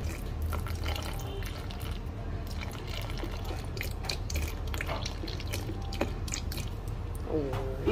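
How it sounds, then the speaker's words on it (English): Distilled water is poured into a homemade lightening cream soap mixture containing cocoa butter, giving a quiet, close trickle with scattered drips and splashes. "So I'm adding in my distilled water."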